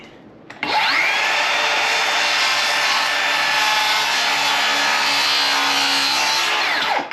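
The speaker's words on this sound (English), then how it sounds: "That's going to be a nice 45 with the circular saw." A circular saw spins up and cuts a 45-degree bevel through door jamb trim wood, a loud, close, sustained whine with a steady tone for several seconds before winding down.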